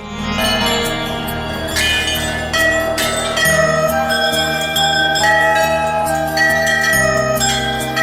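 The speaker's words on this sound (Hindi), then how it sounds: "चारों तरफ घंटियाँ दिख रहा है और आवाज़ भी घंटियों का ही आ रहा है" Many temple bells ring together at Maa Ghanteswari Temple in Chipilima, Sambalpur, Odisha, a loud continuous mix of overlapping metallic strikes and long sustained tones, with no talk.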